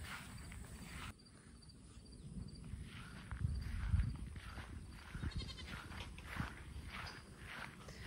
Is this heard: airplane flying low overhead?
no